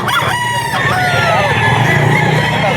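A regular gray rooster crows loudly and close by at a busy pet market, one long drawn-out call over a constant background of crowd noise and other fowl.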